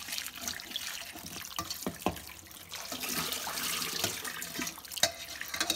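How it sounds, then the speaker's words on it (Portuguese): Tilapia fillet is rinsed under a running kitchen tap, with water splashing and trickling unevenly as the fish is handled, close by and moderately loud. "Vou lavar e vou escorrer bem a água."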